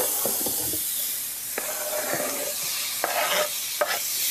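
Seitan chunks and green pepper fry in a hot skillet with a loud, continuous sizzle, broken by a few scraping stirs and clinks of a utensil close by.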